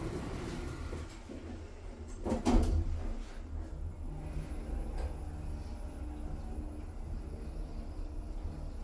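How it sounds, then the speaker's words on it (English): Doors of a 2003 Otis Gen2 lift in a shopping mall car park in Gateshead slide shut with a brief thud, then the car hums and rumbles steadily as it travels, close and moderately loud with no talking. "Doors closing."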